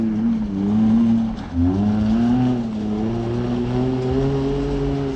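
A Maruti Gypsy 4x4 engine labours up a steep off-road track, a steady droning growl with a brief dip and a fresh surge of revs partway through, close and loud with no talk.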